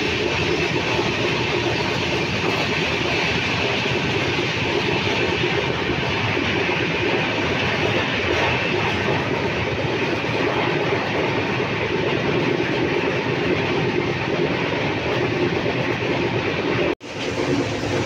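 A moving passenger train on a Humsafar journey, heard from inside the coach as a loud, continuous rumble with steady wheel clatter and rail noise that fills the whole stretch and drops out briefly near the end.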